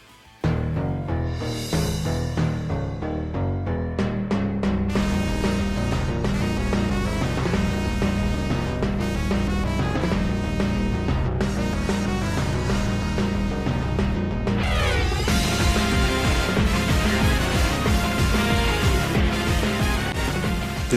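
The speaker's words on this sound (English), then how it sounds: "Take for example Maxie and Archie's theme from Ruby and Sapphire." Battle theme for Maxie and Archie from the Pokémon Ruby and Sapphire video game: a dense, loud synthesized orchestral track with a steady driving pulse, building in intensity and swelling fuller near the end, with no talking.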